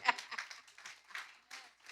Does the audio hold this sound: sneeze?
no